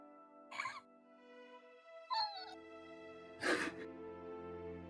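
A voice imitates strange dog noises in three short, whiny, yelping bursts spaced by pauses, close and clear over a soft sustained tonal background.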